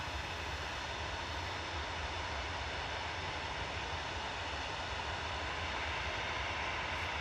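A jet airliner, registration G-CMJN, arrives from Belfast to land at Manchester Airport. It gives a steady, continuous roar that holds at an even level throughout, with no voices.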